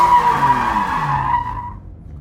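An E46 BMW drifting at a drift school, its tires squealing in one long skid that fades over about two seconds, loud and close, with no talking.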